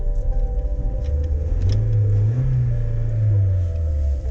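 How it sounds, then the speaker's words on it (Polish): A car that sat unused for a long time runs with a steady low engine rumble, rising in pitch as it is given gas midway, with a slightly uneven, jerky pull under acceleration; no talking. "Długo stał niejeżdżony, coś mi teraz szarpie na gazie."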